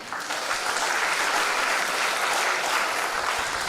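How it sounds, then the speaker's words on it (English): Continuous audience applause at an architecture school ceremony marking the signing of a partnership agreement, dense and even clapping filling the whole moment without any voices. "Let's give a huge round of applause to this new partnership."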